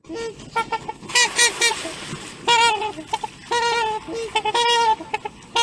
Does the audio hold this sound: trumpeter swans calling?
yes